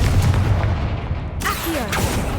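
A Confringo spell explodes in Hogwarts Legacy with a loud booming burst and a rumbling tail, followed by a sharp crack and a swooping magical whoosh in the second half.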